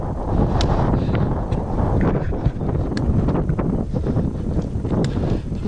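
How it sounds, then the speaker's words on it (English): Strong wind in South West Tasmania buffets the microphone with loud, continuous gusting roar and rumble, steady throughout with no voices. "The wind's picking up."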